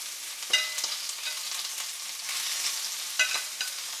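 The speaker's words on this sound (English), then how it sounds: "now that the dumplings have been added to the pan, I'm going to flip them here in about a minute" Cabbage dumplings fry in a hot stainless steel pan with a constant close sizzle, broken by a couple of sharp metallic clanks from a utensil striking the pan, no voices.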